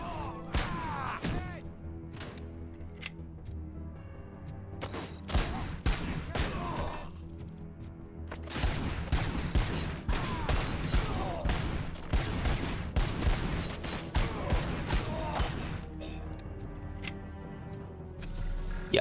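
Enemy weapons fire repeatedly in Robocop Rogue City, sharp gunshots and bursts cracking out in clusters over a steady backdrop, loud and near, with a few quieter gaps between volleys.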